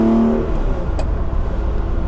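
A 1979 Ferrari 512 BB flat-twelve engine drones loudly and steadily from inside the moving car, a deep continuous roar with a brief higher whine early on and no talking.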